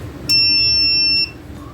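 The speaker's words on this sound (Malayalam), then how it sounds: "അടുത്തതായി നമുക്ക് ഇൻവെർട്ടർ ഒന്ന് ഓൺ ചെയ്ത് നോക്കാം." A 2500VA inverter, assembled with a 2520Wh lithium battery, gives a single loud, steady electronic beep lasting about a second as it is switched on, clear and close with no talk.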